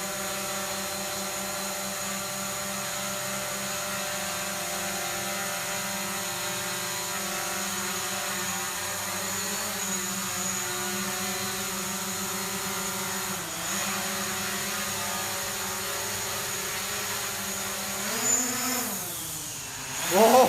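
A DJI Mavic Pro drone hovers and climbs indoors, its steady high whine of propellers filling the room, loud and close, swelling briefly near the end as the throttle goes full up.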